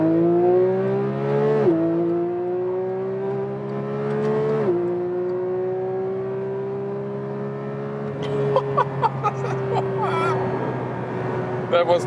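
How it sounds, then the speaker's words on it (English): A Porsche 911 GT3 Touring accelerates hard in track mode, its engine wailing loudly and steadily through rising revs, with brief pitch dips at two gear changes, then rougher crackling toward the end. "So we start from 30 kilometers an hour in the track mode, and let's see how fast it goes."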